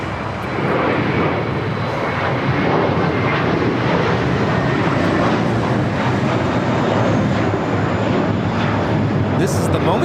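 A JetBlue Airbus A321 departs for Fort Lauderdale, its engines giving a loud, steady roar that holds for the whole stretch, with no voices over it.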